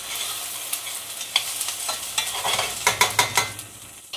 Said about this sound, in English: We're going to keep stirring.